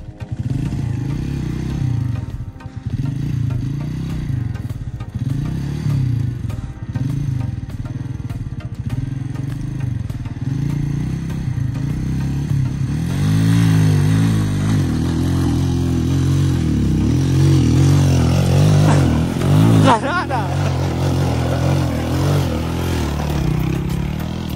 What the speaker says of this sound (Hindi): अभी बाइक जो है फंस चुकी है उधर